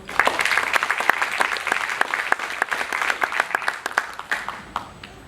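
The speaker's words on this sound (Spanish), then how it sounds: "Aplausos, por favor." A seminar audience applauds, many hands clapping in a dense, steady burst that gradually thins toward the end.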